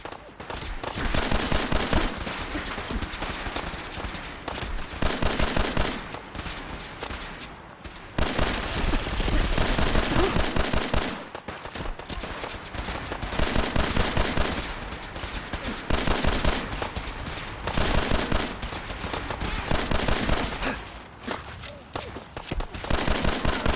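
Pistol gunfire in Fallout 4 at Abernathy Farm, loud rapid bursts of shots in long sustained volleys with brief pauses between strings of fire.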